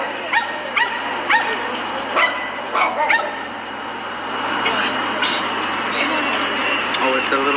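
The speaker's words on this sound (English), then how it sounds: "Oh, it's a little puppy." A small puppy on a city street in Vancouver's Downtown Eastside gives a string of sharp, high yips and barks in uneven bursts, fairly close, over a low urban hum with a voice nearby.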